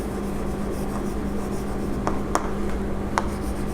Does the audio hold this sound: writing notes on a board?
yes